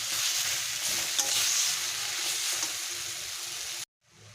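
Potatoes and jute greens sizzle steadily in a hot pan, a constant crackling hiss that cuts off abruptly near the end.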